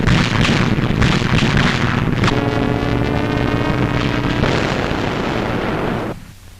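Anti-aircraft guns fire against a German air attack in June 1944 wartime footage, a dense, loud roar of blasts and rumbling that stays continuous for about six seconds before cutting away.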